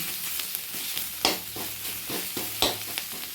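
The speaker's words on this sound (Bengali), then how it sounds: "আস্তে আস্তে নিম পাতাগুলো এবার ভাজা হবে।" Neem leaves frying in a pan for neem begun, a steady close sizzle broken by a few sharp scraping stirs of the spatula.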